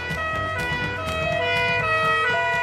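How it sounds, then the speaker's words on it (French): An ambulance siren wails loud and close, its sustained tonal rises and falls steady over a low road rumble, as ambulances shuttle patients between an old city-centre maternity hospital and its new site 10 km away. "les ambulances défilent sous protection policière pour ne pas perdre une minute"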